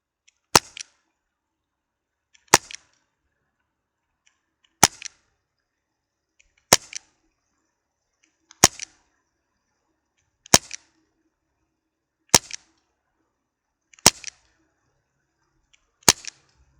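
An Elite Force H8R CO2 airsoft revolver fires nine sharp, close cracks, evenly spaced about two seconds apart, with nothing else between the shots.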